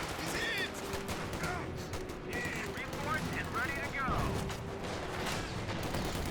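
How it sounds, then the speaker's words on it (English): A Sherman 76 tank fires in Company of Heroes 2 battle gameplay, with repeated sharp gunshots and bursts of weapon fire over steady battle noise, close and loud. "Sherman 76 firing away. Good pen there on the Sherman tank."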